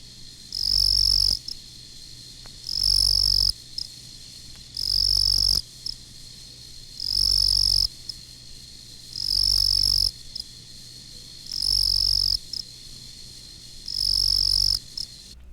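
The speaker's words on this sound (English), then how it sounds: "A ground cricket with a very unique chirp is the confused ground cricket, Nemobius confusus, another woodland species." Confused ground crickets (Nemobius confusus), a woodland species, chirp in loud bursts of about a second, repeating at regular intervals with short quiet gaps between them, close and alone with no voices.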